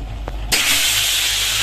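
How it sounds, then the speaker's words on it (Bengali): Pabda fish drop into smoking-hot oil in a kadai, and a sudden loud hiss bursts out and holds as a strong, even sizzle. "মাছ দেওয়া কিরকম ফুটছে, তোমরা আওয়াজ পাচ্ছ?"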